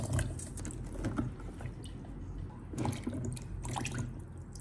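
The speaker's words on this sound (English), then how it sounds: "We'll give them a good scrub under running water and keep rinsing until the water runs crystal" Ginger roots scrubbed and rinsed under running tap water, a steady splashing stream with brief louder bursts of rubbing and handling throughout.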